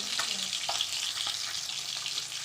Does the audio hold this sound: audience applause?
no